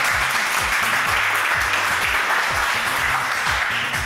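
A studio audience at a French television talent show applauds loudly and steadily, a dense wash of clapping with no talk over it.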